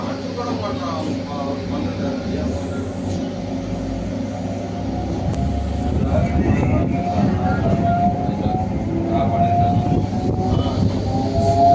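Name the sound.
local EMU electric train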